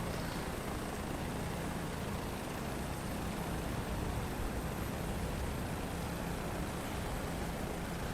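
Dauphin helicopter flying in Microsoft Flight Simulator 2024, a steady, loud, broadband rotor and turbine drone with a low rumbling throb holding constant throughout.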